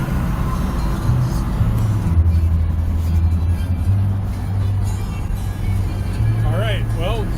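A vehicle cruises along a road toward Wenatchee with a steady, loud rumble of engine and tire noise, while someone talks over it.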